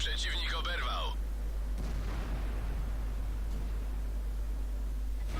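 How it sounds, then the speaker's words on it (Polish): A deep, booming tank cannon shot from the T28 in a tank video game, with a long rumbling tail over constant heavy background noise and a short burst of higher tones at the start. "Drugi strzał Flisa."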